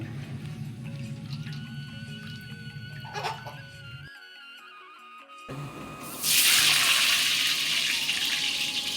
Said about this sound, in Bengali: এদিকে মাংস ধোয়াও চলছে